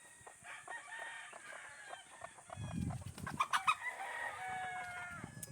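Brooding hens clucking in a rural coop, a mix of soft clucks and squawks close by with other fowl calling in the background over a faint steady hiss.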